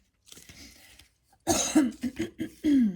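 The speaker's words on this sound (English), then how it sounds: "Clear my throat." After a breathy exhale, someone clears their throat close by with a series of rough, guttural bursts, ending in a drawn-out rasp.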